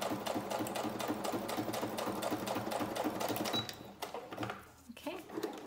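A sewing machine runs in a steady rapid rhythmic whir while stitching lace in a straight line across the bottom of a junk journal cluster, close and continuous before slowing and stopping near the end.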